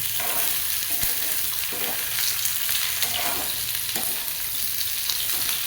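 Spiced radish pickle frying in a pan on a gas flame, a steady close hiss and sizzle with faint stirring scrapes, no voices over it.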